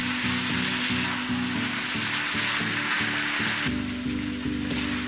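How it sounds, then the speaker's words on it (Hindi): Vegetables and noodles stir-frying on high flame for veg chow mein, a loud continuous sizzle close by with a rhythmic repeating clatter of tossing underneath, no speech. "हम वेजिटेबल्स एंड नूडल्स को अच्छे से मिक्स करेंगे और इसे 2 to 3 minutes हम हाई फ्लेम पे फ्राई करने के बाद सर्व करेंगे।"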